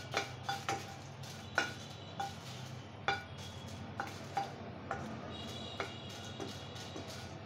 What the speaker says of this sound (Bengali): তার জন্য শুকনো কড়াতে ভেজে নিচ্ছি তেল ছাড়া।